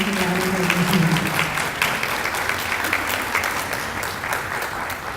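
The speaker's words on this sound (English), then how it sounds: "if we could give her a round of applause again" A room full of people at a new teacher orientation claps for a newly welcomed teacher, a steady, moderately loud round of applause with a brief low voice at the start that fades under the clapping.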